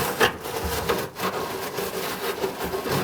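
A small chimney-sweep-style brush scrubs lint loose inside a dryer vent, making repeated scratchy rubbing strokes that sound close and fairly dry, with uneven rhythm and no talking.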